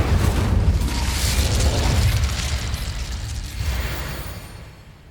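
A fire spell cast in the video game Hogwarts Legacy erupts in a loud, roaring burst that swells, then rumbles on for several seconds before fading out.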